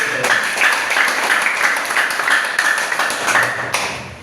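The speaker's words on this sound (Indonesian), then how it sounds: "Tepuk tangan buat PT." An audience at a business motivation seminar in Indonesia claps for a company. A loud, close, rhythmic clapping pattern is joined by ringing tones, and the sound stops sharply just before the end.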